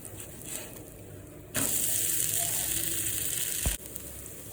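Jowar dosa on a hot pan, with oil, sizzling loudly and steadily after being flipped, framed by quieter stretches before and after and a thump as the sizzle drops off.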